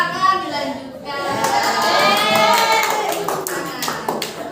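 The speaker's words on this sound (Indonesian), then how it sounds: "Tepuk tangan." Children in a classroom clap their hands in a loud, dense burst of overlapping claps that swells and carries on for several seconds, mixed with children's voices and chatter.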